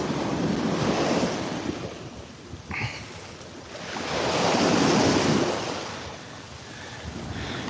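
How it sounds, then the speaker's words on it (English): Ocean waves roll and break on the shore amid steady wind buffeting the microphone, one surge swelling loudly in the middle before easing back. "Guys, listen to those waves."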